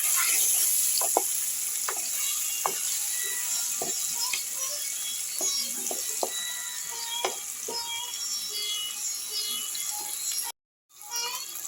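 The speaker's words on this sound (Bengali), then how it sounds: "পনিরগুলো একটু আমি ভাজা ভাজা করে নেব" Paneer pieces frying in oil in a kadai give a steady, fairly loud sizzle with scattered sharp crackles and pops, interrupted by a brief silent gap near the end.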